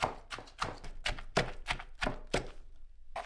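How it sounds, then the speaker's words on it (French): Close, irregular crunching thuds as shrimp shells are crushed, about a dozen sharp hits spread unevenly, then quiet at the end. "J'écrase les carcasses pour libérer toutes les saveurs."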